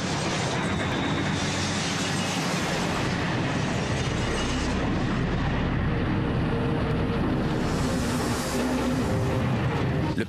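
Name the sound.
airplane belly landing on tarmac, landing gear stuck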